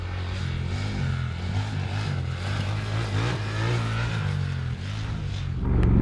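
A Triumph Scrambler 1200XE motorcycle rides off road, its engine droning loudly and continuously as it pulls hard, with pitch shifts over rough ground and a rising surge at the end.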